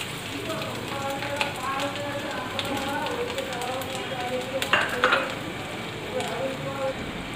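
Chopped garlic dropped into hot oil with cardamom sizzles and crackles steadily in a pan, a continuous frying hiss with a louder burst of spatter midway, while a voice talks faintly underneath.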